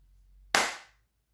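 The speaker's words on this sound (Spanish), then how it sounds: "vas a generar algún ruido, por ejemplo un aplauso" One sharp hand clap rings out in a quiet room, a single crisp crack that decays quickly into near silence.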